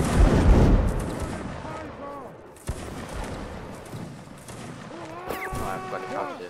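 A musket volley fires on command in a line battle video game, a rolling crackle of shots from a line of soldiers, followed by scattered distant pops while several voices talk and shout over the battlefield noise.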